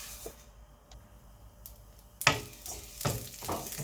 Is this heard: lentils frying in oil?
yes